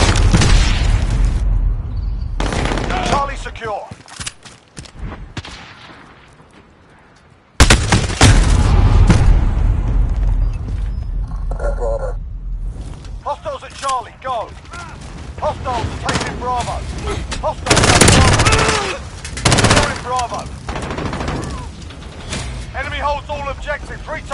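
Gunfire and explosions in Modern Warfare (2019) Domination multiplayer: loud bursts of automatic fire and heavy booms in clusters, with sharp gaps and mechanical clatter, under intermittent radio-style voice callouts.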